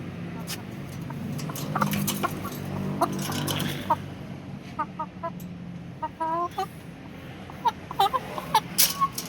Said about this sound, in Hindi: ये मेरे पास है मियाँ वाली की मुर्गी है, देख सकते हैं आप